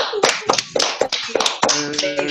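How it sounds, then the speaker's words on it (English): Unmuted participants in an online storytelling club meeting applaud during a Pathways celebration. Scattered, uneven hand claps come from several people, with voices talking over part of the clapping. "Let's unmute so we can all hear the applause."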